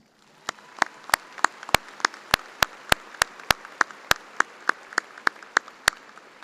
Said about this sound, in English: Please join me again in a round of applause for our marshals.